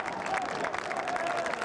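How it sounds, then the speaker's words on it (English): Travelling Preston North End supporters applaud from the away end during a Championship match at Blackpool, a sustained, dense crowd clapping that carries on throughout, fairly loud and slightly distant. "he earns loud applause from the travelling fans for his contribution this afternoon"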